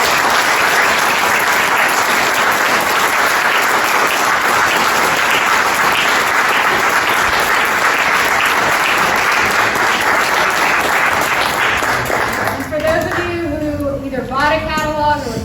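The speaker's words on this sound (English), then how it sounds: "I'll say thank you, Laura, if you get a round of applause." An audience at an artist talk breaks into loud, sustained applause that fills the room, and a voice begins speaking as the clapping continues toward the end.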